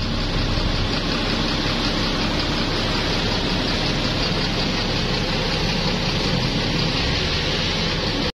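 The ALS 254 intercity bus pulls out with a dense, steady diesel drone and broadband roar, unbroken and fairly loud, with no voices.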